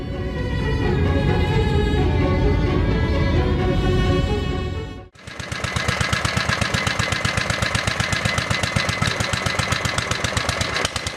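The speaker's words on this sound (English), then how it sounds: "Check out the inner workings of this 4-stroke engine. It's amazing how fast it runs." A four-stroke engine runs fast, first a loud dense roar, then after a short break a rapid, even train of sharp firing pulses that continues steadily to the end.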